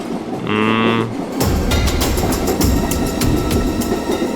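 A passenger train rolls along with a steady low rumble and faint rhythmic clatter heard from inside the carriage, following a brief tonal sound at the start; no one speaks.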